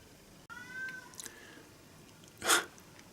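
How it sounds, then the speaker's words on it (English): A cat lets out a short, drawn-out yowl, followed moments later by a brief sharp sneeze-like burst, faint against quiet room noise. "You can probably hear Molly yowling in the background."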